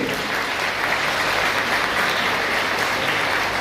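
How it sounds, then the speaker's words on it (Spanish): A steady crowd applauds throughout at a neuroscience congress, dense clapping at an even, sustained level with no pauses. "pido un aplauso para nuestros profesionales de blanco"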